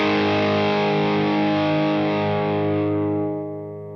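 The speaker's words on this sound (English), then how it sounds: "It's just a great sounding drive pedal." Electric guitar through an overdrive pedal into a Boss Katana Artist MkII amp, a single thick distorted chord held loud and steady, then fading out toward the end with no talk.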